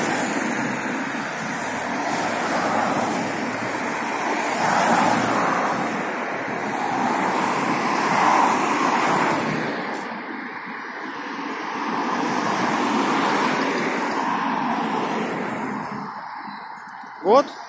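Cars pass steadily through a road crossing at a traffic light, a broad swelling roar of traffic that rises and falls in waves, with voices talking faintly in the background.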